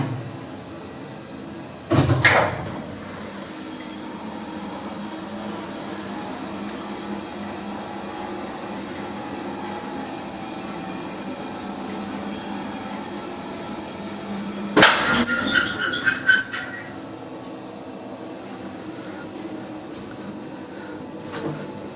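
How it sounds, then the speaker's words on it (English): A modded ThyssenKrupp machine-room-less elevator lift travelling upward: a thump and door rumble at the start, then a steady low hum of the moving car, ending with a second clunk and a few short chimes. "And now let's take this lift up and take a look at the motor."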